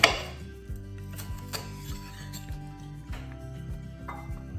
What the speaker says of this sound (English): Roughly cut them like an onion